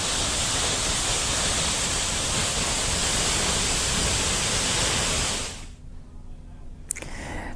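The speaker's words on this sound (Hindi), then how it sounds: "झरना पूरे उफान पर है।" Tiger Fall waterfall near Chakrata in full monsoon flood: a loud, dense, unbroken roar of crashing water that cuts off abruptly after about five seconds, leaving quieter background noise.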